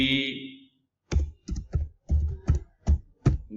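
Computer keys typed in short irregular bursts of close, crisp clicks while a command is entered for a network port-scanning tool, following a brief spoken phrase at the start.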